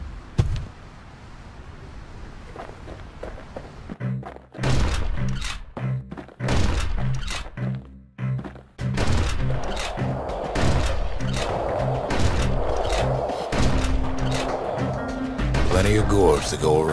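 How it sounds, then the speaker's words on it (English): Musket shots fired by the Kid in the action game Bastion: sharp, punchy blasts in uneven bursts over game music, with a narrator speaking throughout. "Kid takes a little personal time for just him and his favorite musket."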